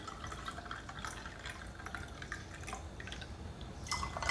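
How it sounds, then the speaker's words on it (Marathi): Water splashes and trickles steadily into a jug for mint sherbet, a continuous close pour with small drips, with no voices. "आणि आता ह्यामध्ये पाणी घालून घ्यायचं"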